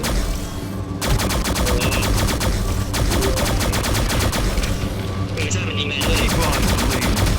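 Rapid automatic gunfire from a weapon in the shooter game ShadowGun Legends, loud and continuous bursts with brief pauses, a few sharp effects layered on top.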